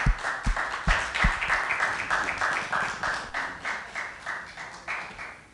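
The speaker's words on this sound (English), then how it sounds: "Let's give this guy a huge round of applause." A modest audience at a mayor's lecture series applauds a speaker. Rhythmic clapping from a fairly small crowd, with a few sharp, close claps at the start, settles into steady, moderate applause.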